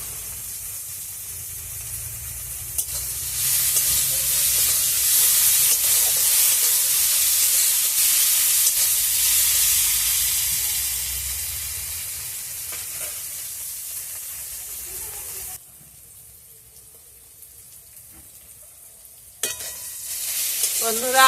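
Ginger frying with softened onions in hot oil, a loud continuous sizzle and hiss with scraping stirring, easing off near the end into a quieter lull before the sizzle briefly returns.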